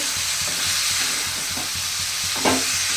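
Malabar spinach and prawns sizzle steadily in a frying pan, with a spatula scraping and stirring in an even rhythm and one sharper clatter near the end.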